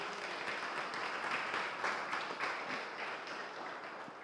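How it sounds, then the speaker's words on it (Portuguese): A church congregation claps in a dense, steady burst of applause lasting a few seconds, even and fairly full before tapering slightly at the end. "dá uma salva de palmas a Jesus"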